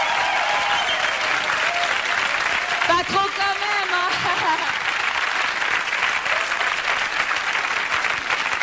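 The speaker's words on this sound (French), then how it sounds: "On peut les applaudir?" Studio audience applauding the show's band, a loud, continuous wash of clapping throughout, with someone speaking briefly over it partway through.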